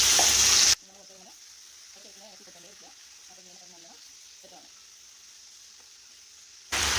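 Chicken with turmeric powder fries in a pan, a soft steady sizzle broken by several bursts of scraping as a spoon stirs the pieces, with louder noise at the very start and end.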